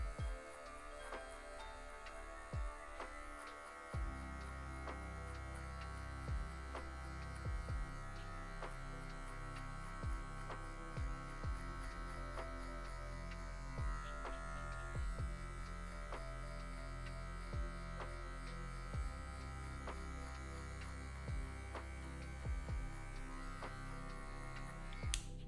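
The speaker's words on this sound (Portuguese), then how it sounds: "a gente está passando essa maquininha" Electric hair clippers buzz steadily for a long stretch through afro hair, a constant droning hum with small clicks and shifts as they move through it.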